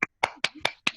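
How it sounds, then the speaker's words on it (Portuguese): Five separate hand claps from someone applauding Martinha over an open microphone in a virtual gathering, close and sharp, in an uneven rhythm with short gaps. "Vamos aplaudir, vamos ligar o microfone e aplaudir a Martinha."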